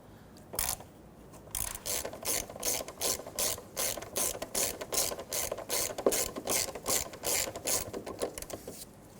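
A ratchet with a 9 mm socket clicks in quick repeated bursts while working a rusty nut off a 1992-1996 Toyota Camry, close and crisp with short gaps between strokes.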